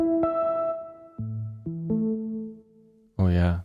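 A U-He Repro synth plays its dry Classic Prophecies preset: a series of clean, sustained electric-piano-like notes and chords, with a brighter, buzzier chord at the end, heard alone.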